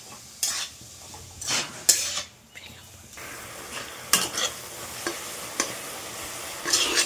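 A spoon stirs grated date-palm jaggery and coconut in a pan, producing intermittent scraping strokes and soft clatters against the metal over a low background sizzle.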